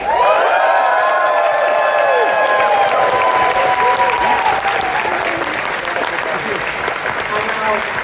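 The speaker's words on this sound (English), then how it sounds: "we have a massive cheer so they can hear you from where they are right now" A large crowd at a furry convention's closing ceremony cheers and applauds loudly and steadily, with whoops and shouts rising over continuous clapping that fades only slightly toward the end.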